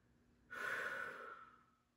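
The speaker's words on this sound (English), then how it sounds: "take a deep breath" A preschool teacher takes one deep, audible breath: a sudden airy inhale starting about halfway in, then a long fading exhale, close to the microphone with no talking.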